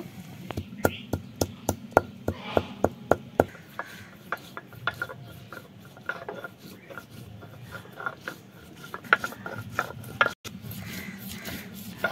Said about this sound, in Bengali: আমি গরম মশলাটা বেটে নিব।